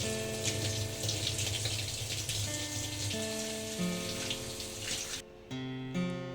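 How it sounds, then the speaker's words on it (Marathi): Tap water runs steadily over beetroot being washed in a sink, with a continuous splashing hiss and a brief change in flow near the end. No one speaks. "बीटला चांगल्या प्रकारे धुवून घ्यायचंय आणि मगच पुढची प्रोसेस करायची। आधी स्वच्छ धुवून घ्यायचंय।"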